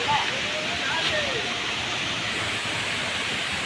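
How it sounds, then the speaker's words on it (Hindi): Water tumbling down the waterfall at Deojhar makes a steady, full roar of rushing spray, unbroken and fairly close, with faint voices barely showing beneath it. "देवझर देवझर पानी झरुची झर झर"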